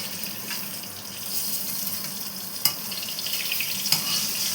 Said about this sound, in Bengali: আর বেগুনটা ভালো করে ভেজে নিই